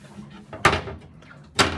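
A boat cabin door on a 28-foot Kim Holman sloop moves twice, each with a sharp knock or clunk, separated by about a second, close by with quiet background.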